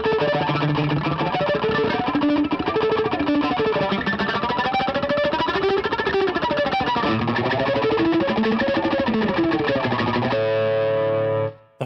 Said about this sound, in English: just take your finger and touch the string and just go up and down, and it'll create all these cool harmonics